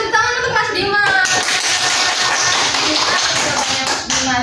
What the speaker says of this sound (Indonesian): beri tepuk tangan untuk Mas Dimas.